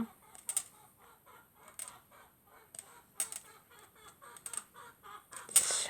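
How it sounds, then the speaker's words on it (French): A hen clucks in a long series of short, repeated calls with occasional louder squawks, fairly close and with no talking. "Vous entendez ma poule qui chante."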